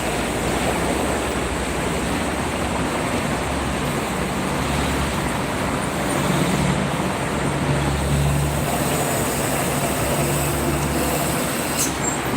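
Constant roar of heavy traffic and buses on the Jakarta-Cikampek toll road at night, a dense unbroken rumble with passing vehicles swelling slightly, no voices.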